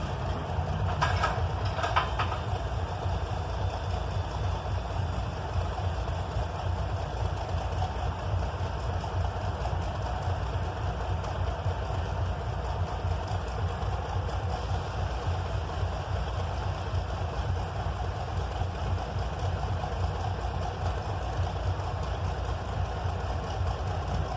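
A train's heavy locomotive engine rumbles and idles steadily nearby as the Buffalo and Pittsburgh train arrives, a constant low drone with a faint metallic clank near the start.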